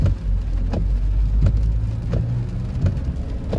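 Rhythmic squeaky sweeps of a new car windshield wiper, repeating about every second and a half over a low engine rumble inside the vehicle.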